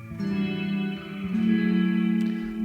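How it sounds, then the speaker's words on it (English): Sustained guitar notes ring out drenched in heavy, bright reverb, the chords washing together with a long shimmering tail. "I'm going very heavy on the reverb, noted, just to make things a little bit more obvious"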